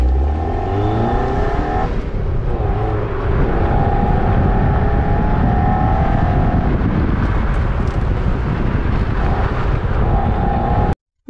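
A Toyota MR2 driven hard on an autocross course, its engine loud and close, revving up and down through gear changes and sustained pulls with no talk, cutting off abruptly at the end.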